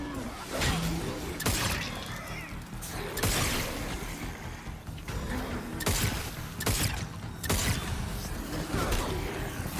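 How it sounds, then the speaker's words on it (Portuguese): Zombies shatter apart in a video game, sharp breaking crashes bursting repeatedly every second or two amid dense game noise, loud and close throughout. "O zumbi se despedaça"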